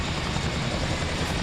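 A helicopter engine spools up in a flight simulator game, a steady, loud rotor and turbine roar filling the short stretch without a break.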